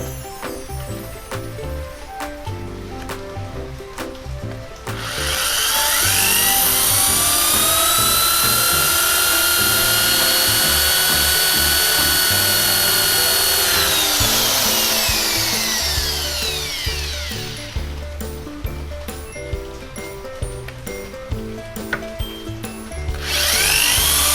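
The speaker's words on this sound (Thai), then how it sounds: "เราก็จะมาเจาะ รู แล้วก็ขันยึดอย่างนี้" A close, loud power drill bores a hole, whining steadily for about twelve seconds, its pitch rising and falling, then stops; a second burst starts at the end.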